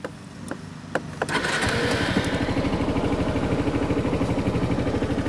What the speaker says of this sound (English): So what do you say we're going to go ahead and start it up now?